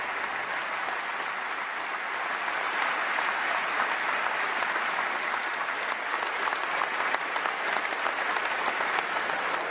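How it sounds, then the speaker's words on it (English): A packed football stadium crowd at Upton Park gives a sustained minute's applause before a West Ham league match kick-off, honouring a former Wales manager: dense, steady clapping that fills the whole stretch without pause. "there was a minute's applause before kick-off to honour the former Wales manager"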